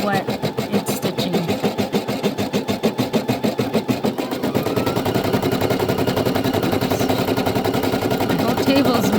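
A Brother PE800 embroidery machine stitches with a rapid, steady mechanical clatter of needle strokes, close and loud, the rhythm tightening slightly halfway through, with a person talking over it.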